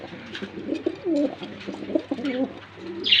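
Pigeons coo repeatedly at a pigeon farm, soft throaty rolling calls close by and overlapping, with a brief brighter rustle at the end.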